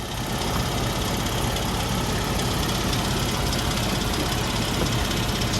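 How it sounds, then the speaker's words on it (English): An Argo 6x6 all-terrain vehicle's motor runs steadily at idle, a loud, continuous broadband engine drone with a rough low knock and no talk. "Motor runs, fellas."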